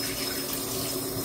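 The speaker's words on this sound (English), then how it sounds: "just rinse off my hands" A kitchen tap runs while hands are rinsed during preparation of a ham dinner, a short steady close gush of water.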